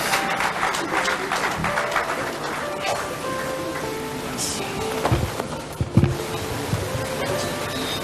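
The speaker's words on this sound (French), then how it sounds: "nous l'accueillons avec des applaudissements quand il monte." A crowd applauds throughout to welcome a church dignitary at an official investiture ceremony, the clapping steady and moderately loud, with a few louder thumps and knocks near the end.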